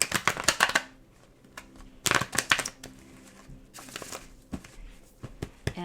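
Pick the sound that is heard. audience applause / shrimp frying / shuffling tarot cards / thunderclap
shuffling tarot cards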